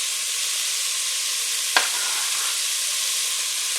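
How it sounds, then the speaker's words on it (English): Chopped onion fries together with browned 85/15 ground beef in a pot for beef noodle soup, giving a constant close hiss of sizzling fat and one brief knock partway through, with no talk. "I'm going to add some chopped onion."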